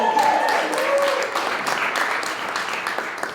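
An audience at a live open mic comedy show claps and cheers steadily for a few seconds, with a loud, full wash of applause that tapers slightly.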